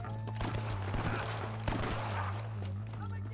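Enemy gunmen fire at the player in Red Dead Redemption, scattered sharp shots crack over a steady low game hum and shouted background voices, moderately loud and irregular.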